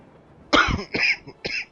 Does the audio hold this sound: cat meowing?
no